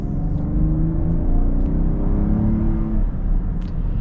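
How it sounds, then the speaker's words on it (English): A 2022 Kia Carnival LX minivan accelerating hard in sport mode, its engine drone rising steadily in pitch for a few seconds before easing off, loud and close from inside the cabin. "now let's pop it over into the sport mode here, and we'll get a little acceleration"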